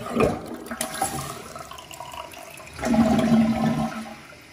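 An Esteem Vormax dual-flapper toilet flushing, a close, rushing surge of water that swells again near the end, with no talking.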